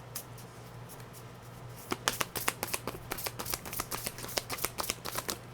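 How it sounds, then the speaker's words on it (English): A deck of tarot cards shuffled close up, starting with a few soft taps, then a rapid run of crisp riffling slaps and flicks in quick succession against a faint low hum. "I'll give it one or two more shuffles to see"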